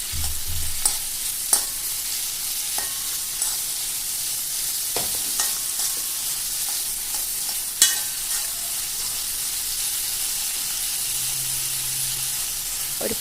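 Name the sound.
paneer frying in butter in a pan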